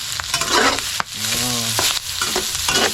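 Seasoning being stirred through food in a frying pan gives steady scraping and sizzling for about three seconds, up close, with a short break partway through. No one speaks.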